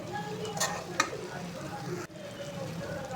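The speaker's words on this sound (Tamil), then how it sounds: "வெங்காயம் தக்காளி எல்லாம் வதக்கிட்டுருக்கேன்" Onions and tomatoes sauté in a pan for an egg curry, with a steady close sizzle, a few sharp scraping stirs of a spatula and a brief clack near the middle.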